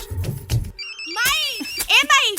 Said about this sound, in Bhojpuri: माई, बाबूजी के फोन।